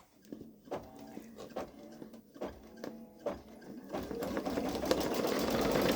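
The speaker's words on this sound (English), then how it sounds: "why did it sew down 2 lines of stitching?" A Babylock Solaris Vision embroidery machine stitching a patch on sticky stabilizer paper, with rapid rhythmic mechanical clatter in short bursts at first, then running continuously and growing louder toward the end.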